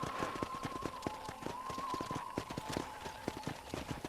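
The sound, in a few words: horse hooves clip-clop in video game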